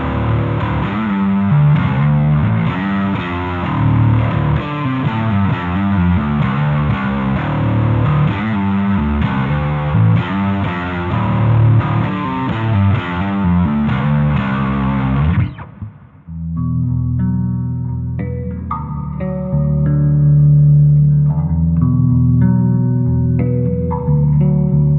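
A distorted bass guitar played through effects, with heavy chorus, reverb and echo. A thick riff runs for about fifteen seconds, then cuts to sparser, cleaner notes that ring out loud and close with no talking.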